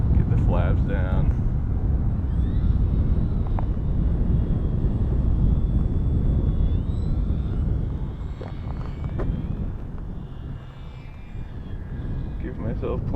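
Buzzing propeller motor of an RC plane with flaps down on landing approach, droning steadily at moderate distance under low wind rumble, with no one speaking.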